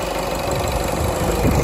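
A Peugeot 107 1.4 HDi diesel engine runs loud and close during an injector check. It gives a steady, even rumble throughout, with no voices.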